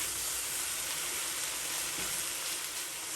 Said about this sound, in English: it's frying up really nice here